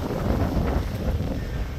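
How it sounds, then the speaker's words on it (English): Strong blizzard wind roars and buffets the microphone in a continuous, loud rush, gusting without a break. "The winds are whipping up to 60 miles an hour."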